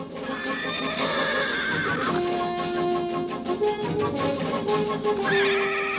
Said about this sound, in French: Attention, les chevaux s'enfuient! Rattrapez-les!